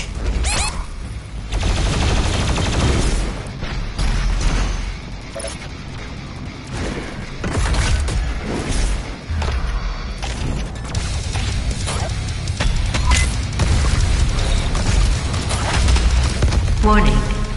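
The BFG 10,000 fires on Mars in Doom Eternal, with booming blasts, crashes and mechanical clatter rolling on loudly and continuously beneath a synthetic announcement voice.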